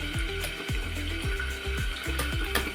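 Spinach leaves stirred through hot water in a cooking pot, a steady wet sloshing and swirling that runs continuously and fairly close.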